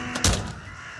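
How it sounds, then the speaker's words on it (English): A crow caws once in the MudRunner VR video game, a single short call close by, rising over a steady low background hum. "There's birds flying around."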